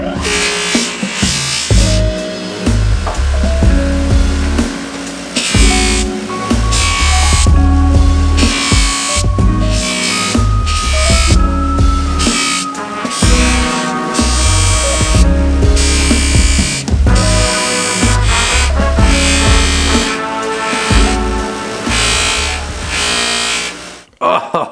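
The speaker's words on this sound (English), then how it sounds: "Now we'll give it a good buffing." A buffing wheel hums loudly against a restored vintage Helle knife, with a continuous motor drone that wavers and briefly drops as the blade is pressed and lifted off, the whole passage close.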